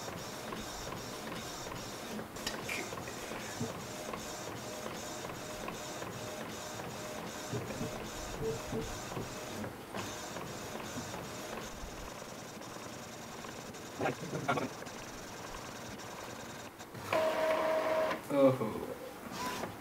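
Epson L3110 ink tank printer running a print job: rhythmic mechanical whirring and clicking of the print head with a louder paper-feed burst near the end, while a person talks over it.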